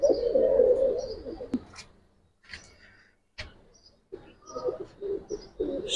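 Giribaz pigeons coo in low throaty bursts, one loud rolling call up close at the start, then quieter broken coos and rustles with short pauses between them.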